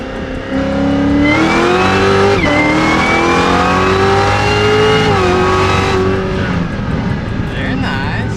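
C7 Corvette Z06 accelerating hard, its engine roaring loud and close as it climbs through the revs with a brief shift dip, then easing off; heard from inside the car, with occupants' voices faintly mixed in.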